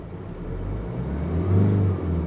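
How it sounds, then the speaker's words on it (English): A 2020 Tata Altroz BS6 diesel hatchback on a city drive revs under the throttle. The steady, loud engine drone swells into a boomy hum, then eases slightly, with no voices over it. "when you tap the pedal, the engine starts getting boomy"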